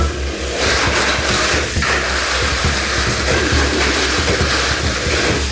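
A mini 4WD toy car runs on its Light Dash motor in a Chinese-versus-Japanese mini car race, giving a loud, steady whirring buzz with a low hum underneath that carries on without a break.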